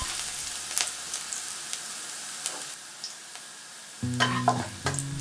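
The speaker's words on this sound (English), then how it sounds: "When the oil is hot, put the chopped garlic." Chopped garlic frying in a tablespoon of hot oil over high heat in a pan: a bright, continuous sizzle with sharp crackles and stirring scrapes, then louder clatter of the spatula against the pan toward the end.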